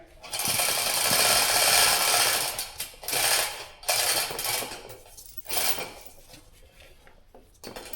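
Metallic clicking and clanking from a ratchet working the six bolts that hold a wheel to its wedge locks during axle work, close and fairly loud in irregular bursts with pauses between them.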